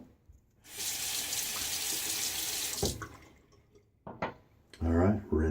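Running tap water pours steadily as a shaving razor is rinsed under it, a loud continuous splashing rush that stops, followed by a few brief knocks and a short burst of water near the end.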